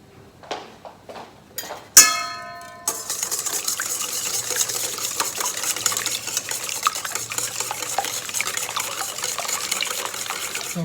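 Heated milk is mixed with eggs for an egg pie filling. A few light clinks and a sharp ring open the clip, then a continuous close sloshing and whisking churns on to the end.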